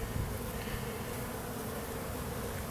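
A busy honey bee hive outdoors gives off a dense, steady buzzing of many bees, continuous and fairly loud without pauses, with no voices over it.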